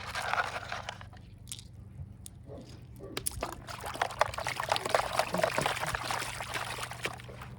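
Gravel is rinsed with river water while gold prospecting on the Carson River, giving close trickling, pouring and sloshing with scattered crunchy stone clicks over a low steady background hum.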